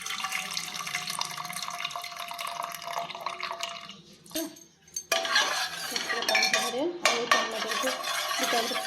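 A spoon clatters and scrapes against a metal pot as boiled vegetables are stirred and mixed in water, with continuous clinks, a brief quieter pause midway, then renewed vigorous stirring.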